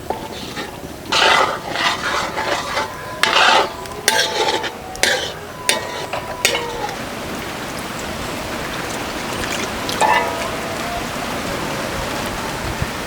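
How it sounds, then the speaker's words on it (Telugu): A Mughlai egg curry gravy with eggs and water being stirred slowly in a pan over a low flame, giving irregular scraping and clinking bursts over a soft, steady simmering hiss, with no talking. "ఇప్పుడు 3-4 నిమిషాలు సన్న మంట మీద మెల్లగా కలుపుకోవాలండి"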